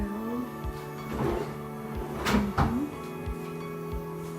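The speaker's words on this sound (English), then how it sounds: "checking the drawers" Drawers slide open and shut in a hotel bathroom at the Courtyard by Marriott Iloilo, several wooden scrapes and soft knocks spaced over a few seconds, close by, against a faint steady hum.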